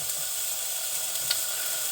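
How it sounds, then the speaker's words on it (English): A steady, close sizzle of blue oyster mushrooms frying in a hot pan, an even hiss throughout with a tiny pop near the end. "So we'll let them sizzle away for a minute, see what we get."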